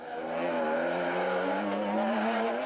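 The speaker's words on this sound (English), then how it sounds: "That there is the sound of Grobler and Moore in the Nissan" A Nissan rally car at the 2008 Eastern Cape 500 revs hard and steadily at close range, its high-pitched whine rising and falling, with a brief tyre skid near the end.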